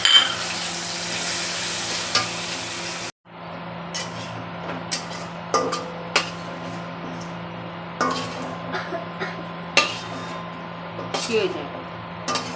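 Spiced eggplant slices, rubbed with salt, turmeric and chili powder, fry in oil in a wok with a steady close sizzle, broken by a brief silence and then sharp stirring clatters, with some talk over it.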